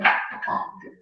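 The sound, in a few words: dogs barking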